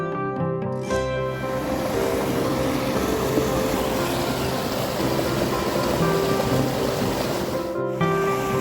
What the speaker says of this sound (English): Waterfalls, nature's majestic spectacle, have fascinated humans for millennia.